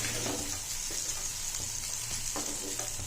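About fifty grams of butter sizzling in a pan over high flame, a steady close hiss of frying with faint scraping touches and no talking.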